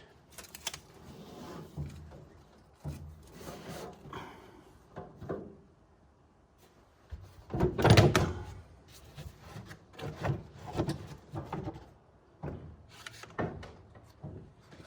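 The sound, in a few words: wooden floorboard being removed from 1931 Ford Model A pickup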